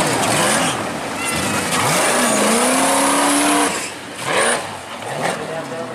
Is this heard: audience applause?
no